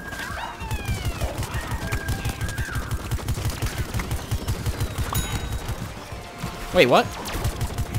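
Rapid gunfire in Plants vs. Zombies Garden Warfare 2 rattles steadily through the whole stretch, aimed at the player, with a brief louder burst near the end and a short spoken remark over it.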